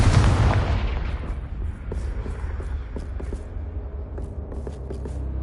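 A Confringo fire spell explodes in Hogwarts Legacy with a loud, booming blast that rumbles and decays over several seconds, scattered with smaller crackling pops afterward.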